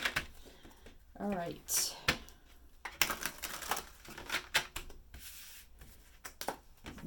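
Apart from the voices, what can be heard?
shuffling tarot cards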